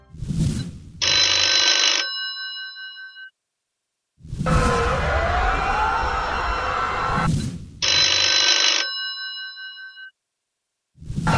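A telephone rings at night in a political campaign ad, two bursts of bright electronic ringing separated by a whooshing transition, loud and clear with no talk over it.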